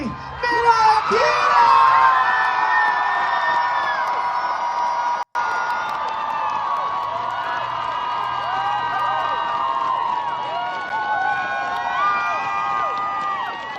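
A large Denver Pride crowd cheers, whoops and shouts, with high excited yells rising over a dense, sustained roar for the whole stretch and a single brief cutout partway through.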